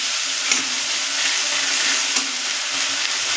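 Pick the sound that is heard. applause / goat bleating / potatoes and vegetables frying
potatoes and vegetables frying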